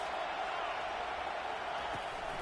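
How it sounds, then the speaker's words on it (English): Stadium crowd at a football game, a steady dense roar filling the whole clip at a constant level, with no distinct cheers or claps standing out. "This crowd trying to make life miserable for this offense"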